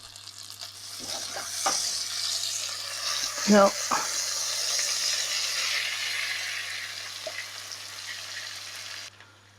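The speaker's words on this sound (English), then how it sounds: "It's just bubbling as it melts over here." Butter melting with garlic in a pan for a red wine chicken sauce gives a steady, close bubbling sizzle, with a brief clatter of stirring partway through.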